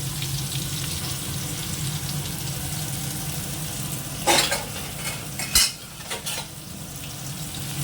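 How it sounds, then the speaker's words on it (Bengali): Potatoes fry in a pan with a steady sizzle while a utensil stirs and scrapes them, leaving a few louder clinks and scrapes partway through. "আলুটা দিয়ে দিলাম আলুটা ভাজা দেখুন"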